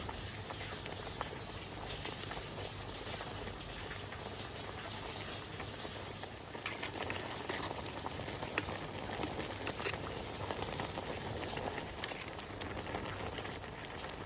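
Rice and pomfret fish with gourd leaves boiling together in a pot, a steady soft bubbling and simmering hiss that stays even and fairly quiet throughout, with no voices.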